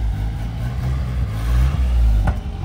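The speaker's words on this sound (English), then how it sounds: "Kind of exciting to see my truck move under its own power outside of it." A Nissan D21 pickup truck driving under its own power at an alignment shop, a close, loud, low engine rumble that builds briefly with throttle and settles, with no talking.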